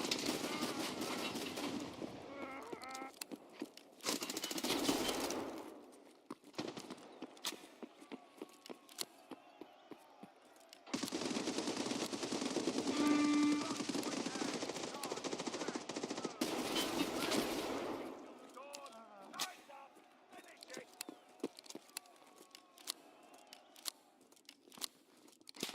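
Gunfire from a first-person shooter game, heavy bursts of repeated blasts in several loud clusters separated by quieter stretches with scattered single shots.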